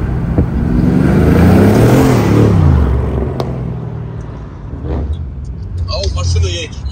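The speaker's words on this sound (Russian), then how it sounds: "Ау, машина едет." A car drives close past on a road, its engine swelling loudly and sliding down in pitch as it goes by, then fading to a quieter rumble with a brief rev afterward.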